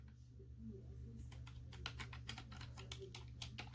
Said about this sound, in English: I can't even navigate this with my keyboard